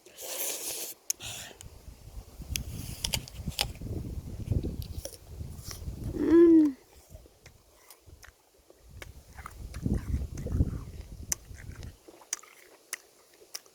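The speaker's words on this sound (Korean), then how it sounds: "일단 이 사과를 한번 먹어보도록 하겠습니다. 여러분 ASMR 들어보세요." Someone bites into an apple and chews it close up: crunchy bites and wet mastication come in two stretches separated by a pause, with a brief breathy vocal noise in between.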